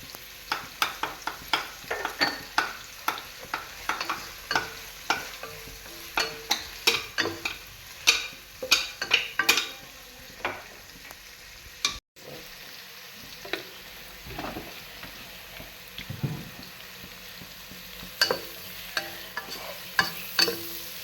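Cauliflower frying in a pan for a Kerala-style roast, with onion and salt: a steady low sizzle under repeated sharp clacks and scrapes of a spoon stirring against the pan, close and busy with no talking.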